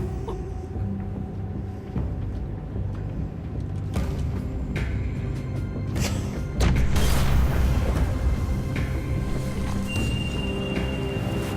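A bomb going off in the video game The Walking Dead: The Final Season, a sudden loud booming rumble that swells midway and then holds as a heavy, sustained roar over an already tense, noisy background.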